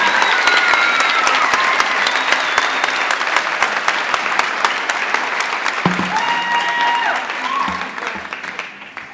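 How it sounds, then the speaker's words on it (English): Loud, sustained applause fills the room for a retiring nursing teacher at a nurse pinning ceremony, many hands clapping densely with a few voices calling out before the clapping thins toward the end. "let's give her an applause for all the years she's been here"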